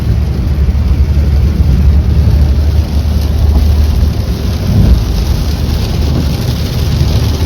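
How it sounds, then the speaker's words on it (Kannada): Heavy downpour with thunder, a dense continuous roar of rain and low rumbling that stays loud and steady throughout, with no voices. "ಫುಲ್ ಜೋರ್ ಮಳೆ ಇದೆಯಲ್ಲ."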